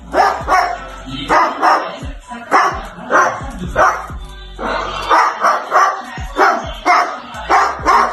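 A parrot imitates a dog's bark beside a sleeping dog, giving a string of about a dozen close, sharp bow-wow barks in an uneven rhythm.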